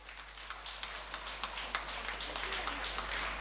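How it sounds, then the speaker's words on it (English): An audience at a school gathering gives a light, scattered round of applause, faint and somewhat distant, with soft irregular claps over a low hum. "Give a clap."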